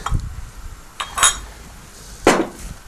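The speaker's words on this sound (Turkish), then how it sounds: "karıştırıyorum" A utensil mixes grated potato with salt, pepper, parsley and garlic in a bowl, giving three separate clinking scrapes against the bowl at close range, moderately loud.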